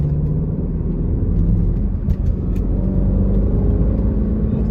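A steady, loud engine rumble and road noise from a 2016 Range Rover Sport in dynamic mode, continuous with no voices.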